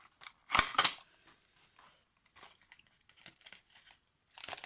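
A plastic box holding resin flower embellishments is opened with a burst of close clicking and crinkling, followed by scattered softer rattles and rustles, then another crinkly flurry at the end.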